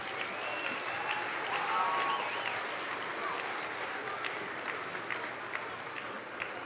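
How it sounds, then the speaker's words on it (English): Audience applauding a 7th grade choir at a 2019 choral festival, a steady wash of many hands clapping throughout, with a few voices murmuring beneath. "Give them one more round of applause."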